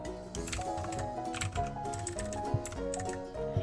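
Tab key pressed on a computer keyboard while writing HTML: light plastic key clicks scattered through the clip, under steady background music.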